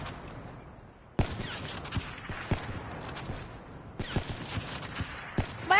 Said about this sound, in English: I'm getting shot from behind and in front